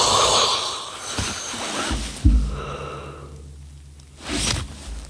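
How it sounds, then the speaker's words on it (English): A person's yawn: drawn-out breathy inhale and exhale with a low voiced groan in the middle, close and fairly loud, followed by a short breath. "Was a yawn between, so just try to ignore it."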